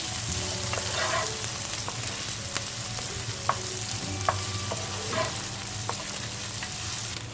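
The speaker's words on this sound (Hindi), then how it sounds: "प्याज को हमें थोड़ा सा सौते करना" Chopped onions sauté steadily in oil in a pan for potato bhujia, a continuous close sizzle with scattered small pops and light clicks throughout, no voices.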